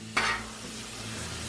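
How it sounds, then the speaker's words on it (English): A soft sizzle of chicken frying in oil on a hot Blackstone griddle, rising with a brief burst of crackle and then settling into steady hiss over a low hum. "I'm just going to get this chicken cooked up a little bit with that Paul Prud'homme's on there."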